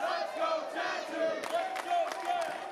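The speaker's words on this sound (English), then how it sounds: "Crowd eats it up." A wrestling crowd at a CCW Chaos show cheers and yells loudly in sustained waves, with sharp whoops and shouts rising above the roar.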